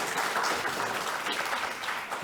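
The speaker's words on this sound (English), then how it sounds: "Please give them a big round of applause." Applause from a workshop audience, a dense, steady round of clapping with no break across the short stretch, moderately loud and without talk.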